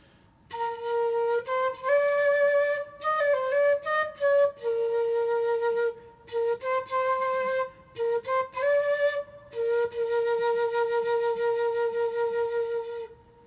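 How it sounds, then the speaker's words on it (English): Quenilla, a small high-pitched Andean flute, plays a lively solo tune of short breathy notes and slurs broken by brief gaps, closing on a longer sustained note. "This one is called quenilla, and sounds like this."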